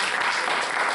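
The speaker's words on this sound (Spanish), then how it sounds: "Un aplauso para Oscar" Dense clapping from an event audience greeting a speaker named Oscar, brief and steady throughout.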